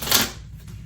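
Tarot cards being shuffled by hand, a short crisp riffling burst that fades quickly, close up with no talking.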